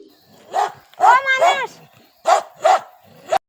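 Dogs bark in short, sharp bursts, one single bark followed by a quick pair, then another pair and a final clipped yelp, close and fairly loud with quiet gaps between.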